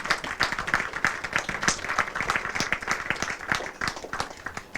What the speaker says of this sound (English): So now I'd like to ask you for a round of applause for the current staff members here